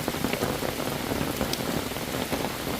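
Steady rain patters on surfaces at a mountain forest campsite beside a valley stream, a dense close hiss with scattered individual drops, heard alone without talk.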